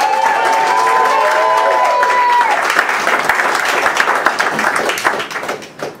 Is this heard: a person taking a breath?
no